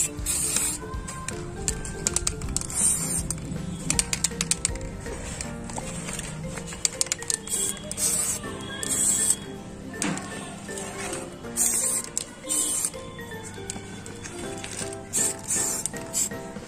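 Grey spray paint hisses from an aerosol can onto a reused waste object in short bursts over a continuous background, with scattered clicks and handling noises.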